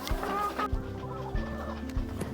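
Chickens cluck in a henhouse, several close, loud hens making repeated short clucks and murmuring calls that overlap in an uneven rhythm.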